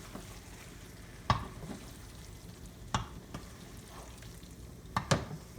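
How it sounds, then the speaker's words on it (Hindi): Okra and chicken in a frying pan are stirred gently, a few distinct scraping strokes spaced about two seconds apart over a soft, constant sizzle, close and fairly quiet. "हल्के हाथ से ही आपने भिंडी को चलाना।"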